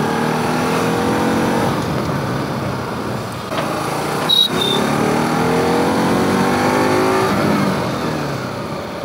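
A 2019 Bajaj Pulsar NS200 ABS motorcycle runs on a test ride in Nepal, its engine droning and revving steadily up and down, close and loud with wind noise.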